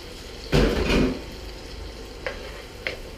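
Bacon frying in a pan, heard as a loud close scrape and clatter of a utensil against the pan over a low sizzle, then two sharp light taps.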